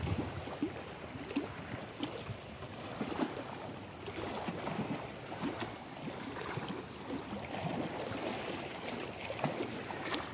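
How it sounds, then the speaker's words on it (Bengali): Strong current of the Padma river rushes past bamboo fishing stakes at Charghat, Rajshahi, a steady churning wash of water with soft irregular splashes, continuous and fairly close, no voices. "শব্দ শুনলে বোঝা যাচ্ছে যে আসলে কত তীব্রতা পানির স্রোতের এখানে"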